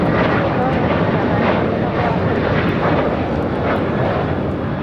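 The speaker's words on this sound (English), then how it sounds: "here we have Delta Airlines Flight 1296 taking off to Salt Lake City on the 767-300ER." A Delta Boeing 767-300ER takes off at LAX, its engines a loud, steady, broadband jet roar that holds constant throughout, close and dominant with no break.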